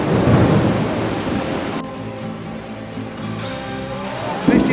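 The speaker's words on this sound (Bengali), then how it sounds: "এত বৃষ্টি হচ্ছে" Heavy monsoon downpour with rolling thunder on a trek to Debotakhum in the Bandarban hills, a dense roar of rain persisting throughout with rumbling low thunder, and faint voices in the background.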